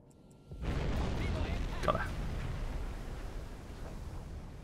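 A torpedo explodes against a Liberty cargo ship in Silent Hunter 5, a deep rumbling blast that rises suddenly and rolls on as a long, muffled roar fading slowly.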